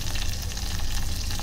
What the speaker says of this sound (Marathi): तेल छान तापलं की फोडणीला लसूण कांदा मस्तपैकी लाल करायचे.